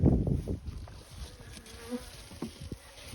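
Honeybees buzz around beehives on a cool, overcast autumn day, a soft steady insect drone close by with a brief low thump near the start.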